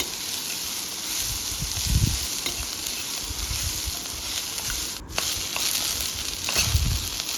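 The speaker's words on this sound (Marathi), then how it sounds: "आपण आता भेंडी व्यवस्थित परतवून घ्यायची चांगली छान अशी लाल होऊपर्यंत आपल्याला भेंडी परतवून घ्यायची आहे" Okra fries in a pan with onion and turmeric, giving a steady close sizzle broken by a few louder bursts of stirring and scraping, with no voices.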